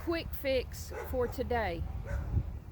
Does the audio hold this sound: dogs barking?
yes